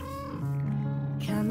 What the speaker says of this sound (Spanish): Está aquí el gato